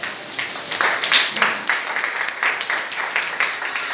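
A church congregation at a fasting and prayer service bursts into lively, sustained applause in worship, many hands clapping together in a dense, fairly close patter that rises and falls across the whole stretch.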